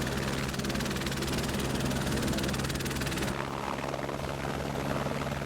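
A helicopter on the Amarnath Yatra route in Kashmir throbs with steady rotor chop and engine whine, loud and close throughout, shifting slightly as it moves.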